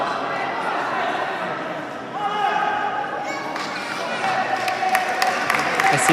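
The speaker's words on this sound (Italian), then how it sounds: "E si prende gli applausi di tutto il Palaureto" Crowd in a futsal arena, the Palaureto, applauding a player during a Serie B match, broad steady clapping and cheering mixed with arena noise under a commentator's voice, with a few sharp claps near the end.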